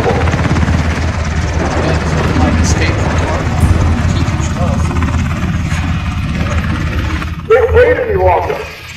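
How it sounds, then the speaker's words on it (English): Helicopter engine and rotor thump in the video game ROE, loud and steady throughout, with a radio-style voice talking over it and a brief lull near the end. "This helicopter will only stay for a short period of time."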